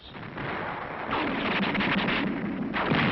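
World War II artillery and mortar fire on Okinawa in 1945 booms and rumbles in dense overlapping bursts, loud and continuous, with heavier blasts building in the second half on an old narrow-band recording.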